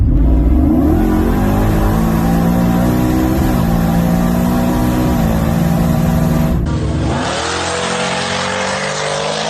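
A race truck engine revs hard as it accelerates down a drag strip, loud and close, its pitch climbing through several gear shifts before the tone changes abruptly near the end as the run continues.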